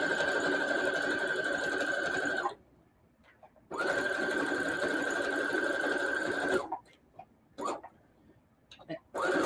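A sewing machine stitches a bag with heavy quilting thread, running steadily in two long bursts split by a short pause, then a few brief stops and starts. It is loud and close with no voices.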